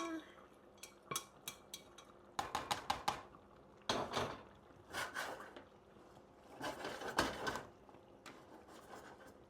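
A utensil scrapes browned bits from the base of a pan while meatballs cook, producing close, irregular scratching strokes and metallic clinks in bursts with short pauses.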